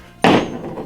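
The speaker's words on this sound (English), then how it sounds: "it actually is a special type of drill bit that has some weight at the bottom, and that, I think, what's causing it to drop" A weighted drill bit drops off a magnetic wristband and lands with a single loud, close-up thud, and the impact rings briefly before fading.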